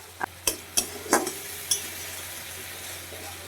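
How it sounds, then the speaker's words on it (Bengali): Fried onions and ground spice paste cook in a pan for a Bengali spiny gourd curry. A few sharp spoon clanks against the pan come first, then a soft, steady sizzle, close by with no speech. "পেঁয়াজটা খুব ভালো মতো ভাজা হয়ে গেছে, দিয়ে দিচ্ছি বেটে নেওয়া মশলাটা।"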